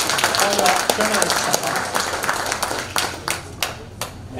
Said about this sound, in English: let's give them applause